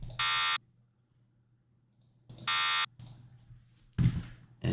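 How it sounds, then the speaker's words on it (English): Alarm buzzer sound effect for a Roblox game: two loud, sustained buzzer blasts separated by a pause, each about half a second long, followed by scattered clicks and a low background hum. "And this one, we'll just call it alarm buzzer."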